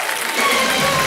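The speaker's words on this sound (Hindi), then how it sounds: "तालियां बज जाएं सुधा मूर्ति जी के लिए।" Brief burst of studio audience applause on the Kaun Banega Crorepati game show set, loud dense clapping swelling within about a second.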